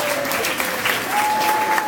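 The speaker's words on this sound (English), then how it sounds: "Let's give them a big round of applause." A live audience applauds after a special effects demonstration, dense steady clapping filling the room throughout, with a faint whistle-like tone running underneath.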